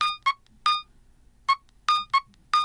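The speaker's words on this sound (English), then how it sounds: "Get a phone call like that." Nothing Phone 1 incoming-call ringtone: a loud, close series of bright, tonal electronic chirps in short bursts, two quick pairs and single notes separated by brief gaps, with no voices.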